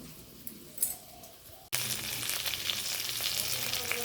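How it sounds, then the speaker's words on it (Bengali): Fish bursts into a loud, steady sizzle as it hits hot oil in a pan, after a quiet stretch with a brief clink. The frying goes on close and unbroken to the end. "মাছ ভাজা হলো"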